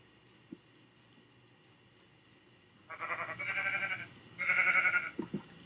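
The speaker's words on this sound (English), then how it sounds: "We even have horses here." Horses in a video game whinny and bleat in two bursts after a quiet stretch, the calls fairly close and clear over a faint ambient bed, with a couple of short thumps at the end.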